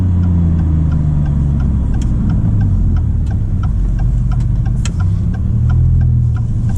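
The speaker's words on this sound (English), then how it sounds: "making a 6-cylinder turbo sound as good as probably you can make it" A 2024 Maserati MC20's six-cylinder turbo engine drones loudly and steadily, its pitch rising and falling as it pulls hard, with faint ticking over the roar.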